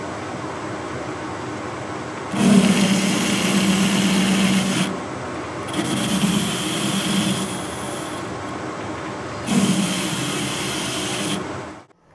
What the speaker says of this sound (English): Put a chamfer on here as well.